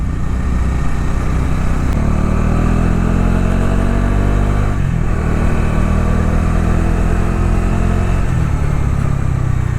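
A Bajaj Dominar 400 motorcycle engine runs loud and close, its pitch rising and dropping as it shifts up and down through gears, with no talking.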